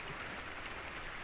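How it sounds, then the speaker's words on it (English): Steady rain falls on a fishing boat out on the water, a soft continuous hiss of drops close by with no talking. "That rain has kind of picked up."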